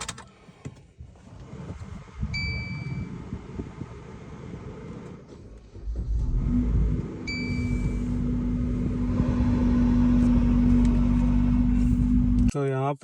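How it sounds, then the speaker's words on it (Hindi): A Maruti Brezza petrol car is cold-started: a starter crank follows, then a steady, rising engine idle hum settles in and holds until the end, with a couple of short beeps earlier. "तो यहाँ पे जो है कोल्ड स्टार्ट कर दिया है।"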